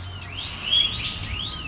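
A ciblek (prinia) songbird sings a series of thin rising whistled phrases that end in a sharp final note, close and fairly clear over a faint low hum.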